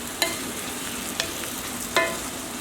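Chicken pot pie filling with button mushrooms sizzling in a pan while being stirred, a steady soft frying hiss broken by three sharp spoon clicks against the pan.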